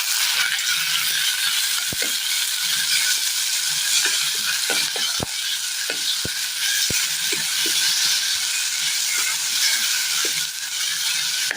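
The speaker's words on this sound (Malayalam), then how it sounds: "കറിവേപ്പില, ഇതിലേക്ക് തക്കാളി ഇട്ട് കൊടുക്കാം." Tomatoes and curry leaves fry in a pan with a steady, loud sizzle, broken by scattered knocks and scrapes of stirring.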